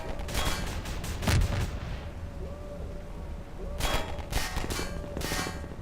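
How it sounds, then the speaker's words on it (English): Bursts of gunfire crack out in two clusters, sharp repeated shots with a low rumbling background, like combat in a game; gunshots in a Dark Interval mapping challenge. "Where are those gunshots coming from?"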